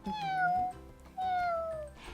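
A human voice imitates a cat with two drawn-out, sliding meows, close and clear with a brief pause between them, during an online kindergarten lesson.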